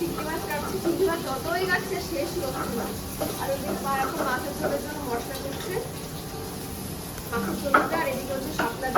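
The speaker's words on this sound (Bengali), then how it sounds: "আর ওদিকে হচ্ছে মাছ ভাজা" A pan sizzles and hisses steadily as food fries, with stirring scrapes and a person talking over the cooking noise.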